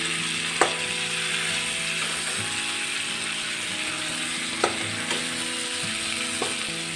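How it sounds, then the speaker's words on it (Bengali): Boiled potatoes being sautéed with spices in a pan for a long bean and potato curry, a steady faint sizzle with a few sharp utensil clicks against the pan. "আলুগুলো কাটতে কাটতে খুব ভালো করে কষে নিলাম"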